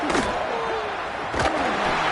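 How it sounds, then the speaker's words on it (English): Loud, steady roar of a college football stadium crowd at Michigan during a third-down defensive stand, a continuous wash of noise with a couple of brief louder surges and no clear talking. "Decibels rising as the crowd gets behind this defense on third down."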